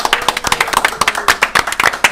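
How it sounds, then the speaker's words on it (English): A close crowd applauds the players at a live gaming event, with brisk, dense clapping that holds steady through a short burst. "please a round of applause for our fantastic players"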